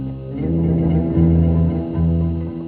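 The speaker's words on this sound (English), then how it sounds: "You can set up 2 delays. You can do 2 different counter times." A guitar through a Boss Katana amp with a dual delay effect, sustained notes shifting between two pitches while echoing repeats smear and layer beneath them, played steadily with no talking.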